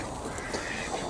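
Ducks in a suburban backyard duck run give a few short quacks, close and moderately loud, over faint outdoor background.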